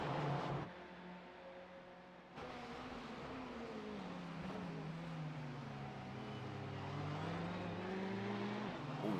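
A Ferrari race car engine at full throttle in a racing video game at the Nurburgring, a steady high-revving drone that rises and falls through a corner, with a short drop in level early on.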